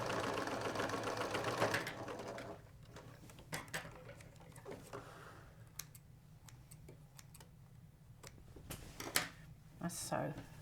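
Sewing machine stitching the joining seam of a box cushion cover in an upholstery workshop, a busy stitching run up front that thins into scattered ticks and taps, with faint background noise.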